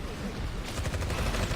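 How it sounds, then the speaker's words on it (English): Rapid automatic gunfire from the Winter Soldier's suppressing fire in the Marvel Heroes 2015 video game, a dense continuous burst of shots with game effects layered over it, steady and fairly loud throughout. "So we're just using our little suppressing fire"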